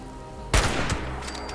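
A single sniper gunshot in Fallout 76 gameplay: one sharp, loud crack followed by a short rumbling tail over faint game ambience, with no talking.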